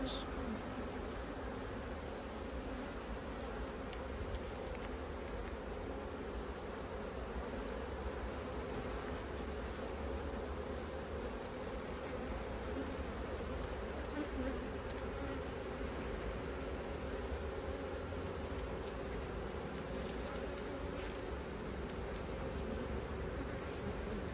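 Honeybees in a hive buzz steadily and densely as a bee brush sweeps them off the frames; a close, continuous swarm drone fills the whole stretch, with a voice faintly present at times.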